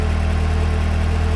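Car engine idling steadily in the Electude simulator after fault codes are cleared, a continuous low hum with a firm tonal drone, alone with no talk.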